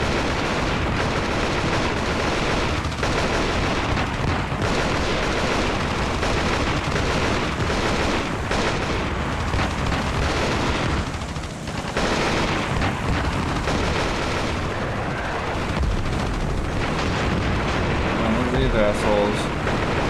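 Gunfire and explosions from the tank-warfare video game Armored Brigade II, forming a dense, continuous, loud roar of rumbling blasts and crackling shots that barely lets up.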